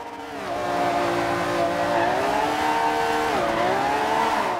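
A 1954 Jaguar XK 120SE in Forza Horizon 2 holds a steady high-revving engine drone at top speed, with slight pitch dips as it shifts or eases, loud and continuous with no talk.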